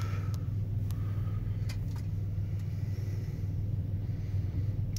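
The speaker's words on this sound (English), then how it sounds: "Throw her in drive and we'll head back forward." A Pathfinder SUV, shifted into drive, rolls forward with a steady low engine and road rumble heard from inside the cabin, with a few faint clicks on top.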